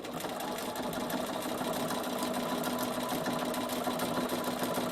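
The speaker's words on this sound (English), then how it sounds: "So I did the underneath stitch in white and I'm top stitching it in navy." A Bernina sewing machine runs steadily, topstitching fabric binding in navy thread over a white underneath stitch, a close, continuous mechanical whir with no talking.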